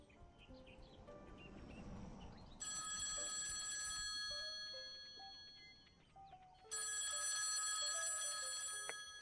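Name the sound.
telephone ringing in the video game Copycat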